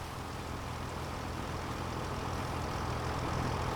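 Tractor engine idling in Farming Simulator 25, a steady low rumble that holds evenly throughout with no voices over it.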